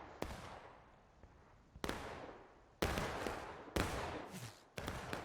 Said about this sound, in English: That one artillery cannon is sloshing those shots off as fast as it can